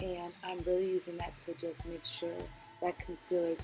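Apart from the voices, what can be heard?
No distinct noise like a dog, phone or traffic.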